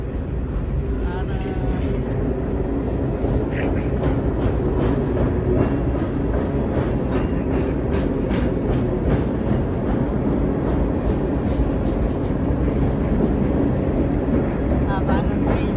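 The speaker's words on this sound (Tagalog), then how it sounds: "Cargo train." A long cargo train rolls past at night near The Forks, a steady loud rumble with rhythmic wheel clatter throughout and people chatting nearby.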